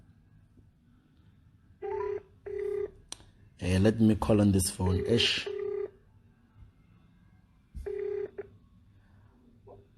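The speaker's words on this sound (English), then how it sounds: "Let me call on this phone." Telephone keypad being dialed: a few separate DTMF beeps, then a rapid cluster of tones, then another pair, each short, clear and close against a quiet background.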